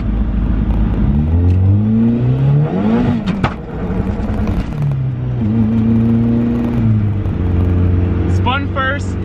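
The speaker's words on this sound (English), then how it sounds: "Spun first, put it in the second, spun second, and that was a scary wheel hop." A car using launch control accelerates hard through first and second gear, the engine rising and falling as the tires spin and the wheels hop, loud and close, with people talking over it.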